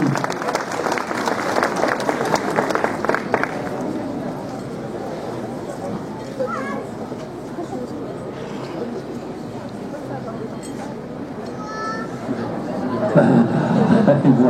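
Sustained applause from a crowd at a medal ceremony in Rambervillers, France, clapping steadily with chatter and voices mixed in, rising again toward the end.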